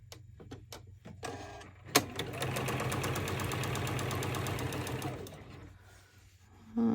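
A sewing machine stitches a pouch, with a few short clicks and taps, then a steady fast whirring run of about three seconds that slows and stops, followed by quiet handling.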